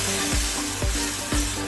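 Strained yakhni meat stock poured into a pan of caramelized onions, giving a loud continuous sizzle close up with a few rhythmic stirring scrapes repeating about every half second.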